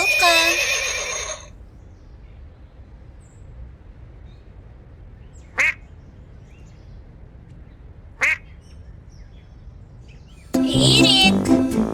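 A horse neighs in a loud, harmonic whinny for about a second and a half, followed by a long quiet stretch broken by two brief clicks, then another loud animal call at the end.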